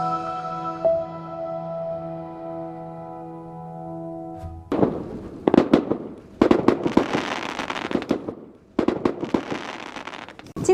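Fireworks set off at night by stargazers on the Mid-Autumn Festival: after a steady humming tone, a run of loud, sharp crackling bursts arrives in tight clusters, some close together and some separated by brief pauses.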